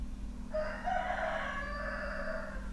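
A rooster crowing once, a drawn-out cock-a-doodle-doo heard at a moderate distance over a steady low hum, with no voices.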